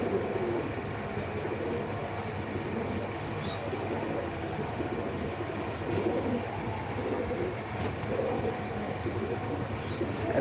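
Pigeons coo softly in a loft, low faint murmuring calls blending with a steady background hum, no clear talking over them.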